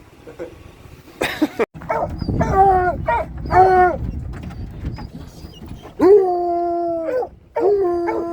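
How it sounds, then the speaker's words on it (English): Several dogs barking and howling together, close and loud, with long wavering howls over sharp barks and a voice mixed in. "That's a lot of dogs"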